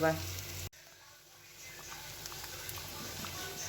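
Potatoes and green jackfruit fry in a pan until nearly soft, a steady close sizzle and crackle that continues after a sharp cut near the start, with light stirring patter.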